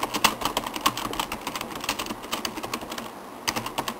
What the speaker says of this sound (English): I type that in.